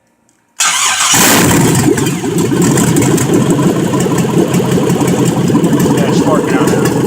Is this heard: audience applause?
no